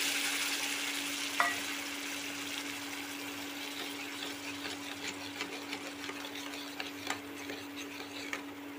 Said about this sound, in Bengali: আলুটা আধা ভাজা হয়ে এসেছে।